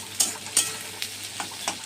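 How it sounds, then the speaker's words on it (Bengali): Sweet corn kernels fry in a pan, with a faint steady sizzle broken by four or five quick, bright scraping stirs of the spatula, close and quiet. "এটা দিয়ে ভালো করে ভাজা ভাজা মতন করে নেব।"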